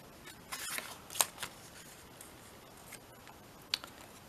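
A few short, crisp snips of scissors cutting paper for chunky craft tags, scattered quietly across a near-silent room with faint rustles between them.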